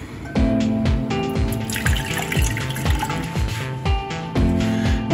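Boiled butterfly pea tea water being strained, a steady liquid pour with trickling and dripping over soft repeated knocks and clinks of the vessel.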